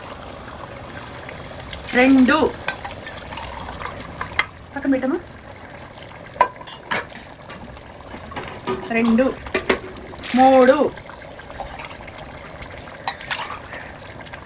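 Mutton-boiled water is poured by the glassful into a pot of rice for biryani: several short splashing pours a few seconds apart, close by, with a person talking in between.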